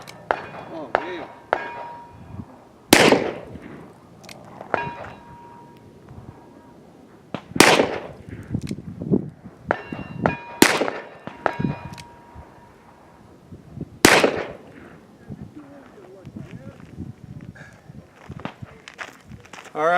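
Pistol shots from a Colt fired with pistol-caliber hand loads at 7 yards, off hand: five sharp, loud reports spaced a few seconds apart at an outdoor range, with faint shuffling and low voices between.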